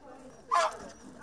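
A single short dog bark rings out at an animal welfare society, fairly close and clear over a quiet background.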